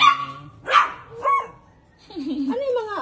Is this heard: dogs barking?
yes